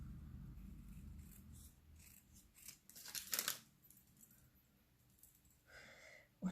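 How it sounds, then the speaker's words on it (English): Scissors snip and trim a paper specimen card made from junk materials, a few quiet crisp cuts with a louder burst of rustling paper midway, all close and fairly faint. "So I'm just trimming this down."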